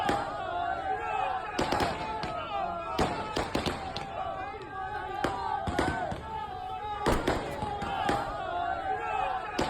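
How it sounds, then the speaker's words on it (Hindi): Fireworks set off by NSUI students celebrating their state president's release on bail, heard as repeated sharp bangs and crackles in bursts over a continuous crowd murmur and talk, fairly close. "छात्रों की तरफ से आतिशबाजी की जा रही है।"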